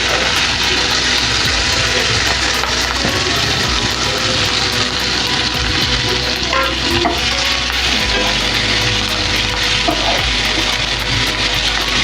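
Chopped fenugreek leaves sauté in hot oil as a thin curry of peanuts and methi is made, giving a loud, steady sizzle with a dense crackling hiss that stays even throughout, with no voices.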